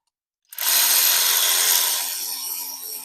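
A powered tool fitted with a T40 bit backs out a failed injector on a 6.0 Powerstroke diesel, starting abruptly after a short silence and running as a loud, steady whirring whine that eases slightly toward the end.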